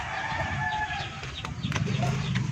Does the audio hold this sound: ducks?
yes